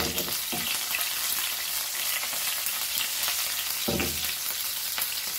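Onion and curry leaves fry in a pan with a steady bright sizzle, broken by two short scraping stirs, one early and one near the end, and no talking.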